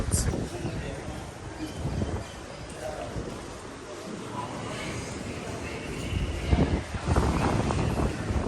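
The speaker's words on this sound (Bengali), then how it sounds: "এত বাতাস মানে বৃষ্টি হচ্ছেও না বুঝতে পারছি না এত বাতাস" Strong wind roars and buffets the microphone in a broad rumbling rush, gusting harder toward the end, with indistinct voices faintly underneath.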